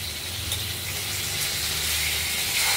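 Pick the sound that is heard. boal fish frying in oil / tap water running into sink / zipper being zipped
boal fish frying in oil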